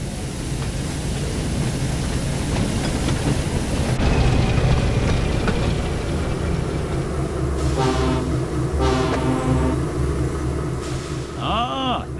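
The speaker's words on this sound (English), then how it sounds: "Suddenly, Diesel pulled into the yard with a train of trucks." A diesel engine hauls a train of trucks in the Thomas and Friends: Wonders of Sodor video game, a steady close rumble of rolling wagons with short horn-like tones near the end and light talk underneath.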